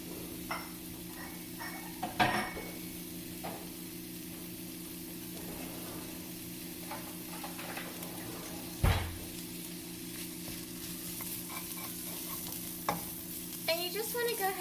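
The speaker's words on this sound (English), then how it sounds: "saute these until the soy curls turns golden and the ginger becomes fragrant" Ginger and soy curls sautéing in a pan: a low, steady sizzle with occasional spatula stirs and a couple of sharp clanks, fairly quiet and without talk.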